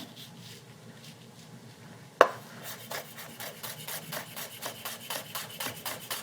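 A knife dices shallots very finely on a cutting board for a vinaigrette, opening with one sharp knock, then a quick, even series of close, crisp chopping taps.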